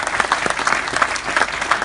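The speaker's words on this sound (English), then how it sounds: "Give him a round of applause." A brief round of applause from the audience at a UW kickoff event in 2017; close, energetic clapping with some voices mixed in, lasting under two seconds.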